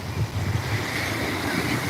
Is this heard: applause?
no